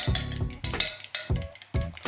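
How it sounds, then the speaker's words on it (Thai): A whisk clinks and scrapes against a bowl while beating egg and cheese for carbonara, a few quick, uneven strokes, close up and fairly loud. "ระหว่างนี้เราก็แค่ตีให้เข้ากัน"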